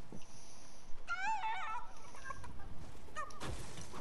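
Chicken clucking in the Fortnite video game, a few short warbling calls in the middle, moderately loud over steady game background noise.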